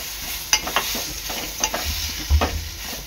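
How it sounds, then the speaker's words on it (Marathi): A spice mixture sautéed in oil for veg Kolhapuri masala, a close, steady sizzle with several light spatula scrapes and taps as it is stirred, no talking. "हे मिश्रण चांगलं तेलावर परतून घ्यायचं आहे"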